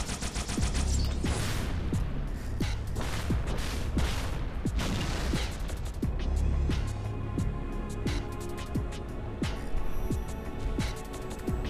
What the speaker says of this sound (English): we're going to use the Needler